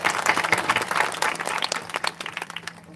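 An audience at a live kirtan gathering breaks into loud, dense clapping, many hands at once in a fast crackling burst that thins and fades over three seconds.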